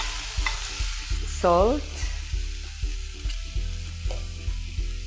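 Tomato puree hits browned onions in a hot pan with a steady sizzle and rhythmic stirring scrapes, close by, under a brief spoken word and a short melodic tone.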